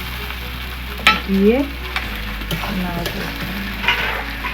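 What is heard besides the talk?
chicken meat frying with onion and spices in a pan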